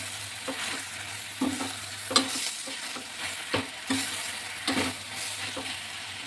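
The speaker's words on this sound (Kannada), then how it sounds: "ಇದು ಬಾಯ್ಲ್ ಆಗುತ್ತೆ." Tomato and bitter gourd cook in a pan with a soft, steady sizzle and bubbling, broken by several scraping stirs of a spoon, close and quiet with no voices.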